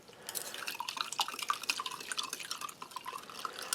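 Water from a glass poured onto Spanish army individual combat ration sachets, a steady close trickle with dripping and splashing throughout, no talking.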